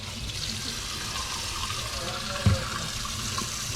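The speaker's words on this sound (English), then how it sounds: "we have to go wash our hands because we don't want the sticky stuff of the eggs on us" Steady running tap water as hands are washed with soap after handling sticky egg while making chocolate chip muffins; a continuous close splash with a brief bump midway and faint talk beneath.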